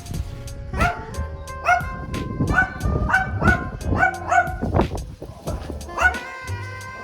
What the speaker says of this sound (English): Got a little dog chasing me.